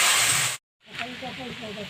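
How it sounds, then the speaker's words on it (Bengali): Dried chili, bay leaf and cumin hit hot oil with a loud, close, hissing sizzle. It cuts out abruptly, then a person's voice speaks over a fainter continuing fry. "তেল গরম হয়ে গেছে, আমি শুকনো লঙ্কা, তেজপাতা, কাঁচা জিরে দিচ্ছি"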